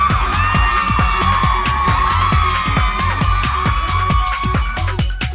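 Screaming, cheering crowd at an idol contest final held in an open-air amphitheater at Siam Square One, Bangkok, with loud continuous shrieks over a pounding rhythmic music beat.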